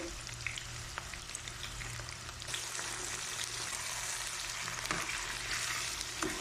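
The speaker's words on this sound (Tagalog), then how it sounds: "Ilagay na natin ang chicken." Chicken frying for adobo with garlic, ginger and onion in a pan, a continuous close sizzle that grows fuller and brighter midway, with occasional stirring knocks and no talk.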